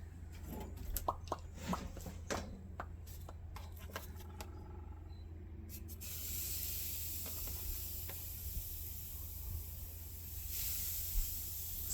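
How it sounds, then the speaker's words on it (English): Steady sizzling hiss of burger patties frying on a hot grill, continuous and fairly quiet, with a brief louder flare near the end. "See, you want to hear that sizzle."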